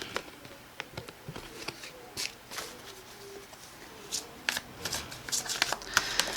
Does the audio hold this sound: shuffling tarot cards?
yes